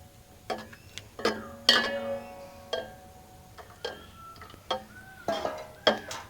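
A spoon stirring cooked rice mixed with jaggery water in a metal pot, giving a series of irregular metallic clinks and scrapes, close and fairly quiet, with no talking.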